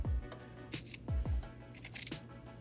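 Scissors snip through a fabric rope for a jelly roll rug, several short crisp cuts in quick succession, close and quiet with no talking.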